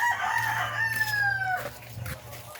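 A rooster crows once, close and clear, its call rising and then trailing downward over a low steady hum of background noise.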